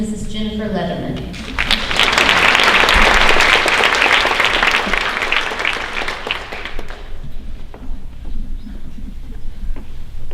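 At a high school honors night, a voice speaks briefly before the audience breaks into a loud, dense round of clapping that lasts several seconds and then tapers off.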